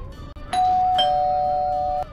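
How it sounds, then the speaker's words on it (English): A two-tone ding-dong doorbell at a house door on a Halloween trick-or-treat night, rung once with the second chime held and ringing out steadily before cutting off, clear and close with no talk. "Why don't you go out there and ring the doorbell"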